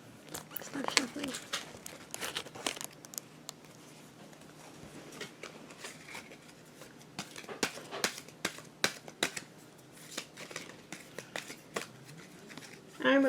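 Tarot cards shuffled by hand, a loose run of soft riffling, flicks and papery crinkles that comes and goes over several seconds, close and fairly quiet with no one speaking.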